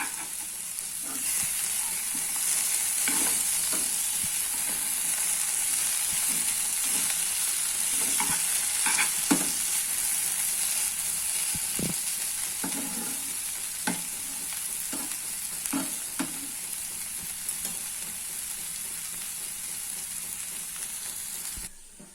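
Flat bean and potato bhaji fries in a pan in a village kitchen with a loud, continuous sizzling hiss, while occasional spatula scrapes and stirs sound close by.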